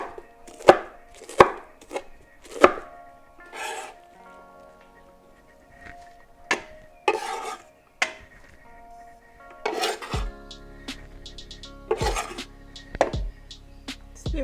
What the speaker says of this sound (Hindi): चॉप थोड़ी सी कर ले